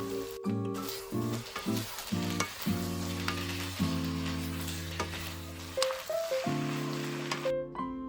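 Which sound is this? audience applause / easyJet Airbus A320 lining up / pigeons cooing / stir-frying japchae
stir-frying japchae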